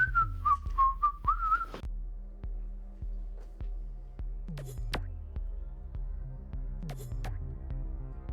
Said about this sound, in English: You whistle while you work.